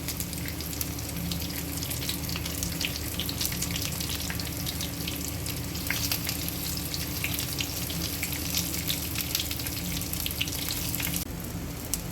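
Brinjal slices fry in oil on a fairly high flame, giving a constant dense sizzle with crackling pops all the way through, close and steady, with no talk.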